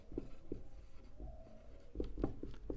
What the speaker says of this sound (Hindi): डिफिनेशन लिखते हैं